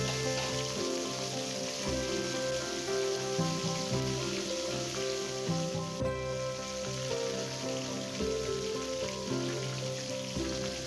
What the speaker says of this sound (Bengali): দিয়ে দিচ্ছি নুন হলুদ মাখানো পমফ্রিট মাছ দেওয়ার সময় আঁচ কিন্তু একটু বাড়িয়ে নেবে নাহলে কড়াতে মাছ আটকে যাবে